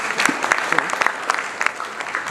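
An audience at a national food systems summit in Kenya claps, a dense patter of many hands with sharper individual claps standing out, steady throughout with a voice faintly under it.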